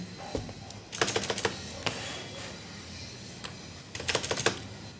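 Computer keyboard typing an app name while setting up a new Android project, in two quick bursts of close, crisp keystrokes separated by a pause with a few stray taps.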